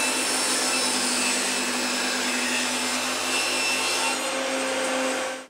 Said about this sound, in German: Jetzt habe ich hier eine 10 mm dicke Platte und die werden wir dann mal grob jetzt auf 46 mm zurechtschneiden.